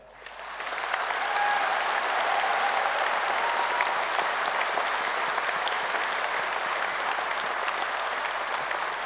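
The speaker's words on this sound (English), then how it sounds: "So please, give yourself the loudest applause for your strength, your journey, and the recognition that you deserve." Graduates and guests at a university graduation ceremony in Edinburgh break into a long, sustained round of applause that swells within the first second and stays dense and even throughout, heard from within a large hall.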